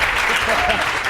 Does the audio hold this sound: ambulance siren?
no